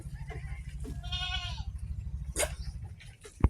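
Goats bleating in a flood-damaged goat pen used for fattening livestock, several short wavering bleats over a low background rumble, with a sharp knock at the end.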